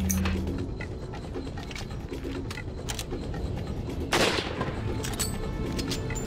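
Rifle and gunfire in the 2005 Resident Evil 4 video game, with scattered sharp shots and one heavier blast near the end over a busy game background, moderately loud and with no one talking.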